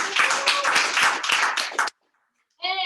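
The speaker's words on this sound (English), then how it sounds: "So how about a round of applause for them?" A short burst of clapping mixed with voices at a team meeting, then a brief silence before someone starts talking.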